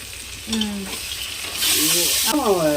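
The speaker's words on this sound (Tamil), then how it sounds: "லைட்டாக தக்காளி வேகட்டும், பச்சை மிளகா உடையாமல் செய்யணும்" Tomatoes and green chillies cook slowly in a pan for chicken biryani, giving a soft sizzle with occasional stirring scrapes, heard close up beneath brief voices and a short burst of louder hiss.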